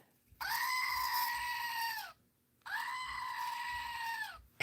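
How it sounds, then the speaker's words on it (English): Two long, loud goat screams, each about two seconds with a short silent gap between, harsh and nasal with strong harmonics, close to the listener and alone without talk. "Goat says hi."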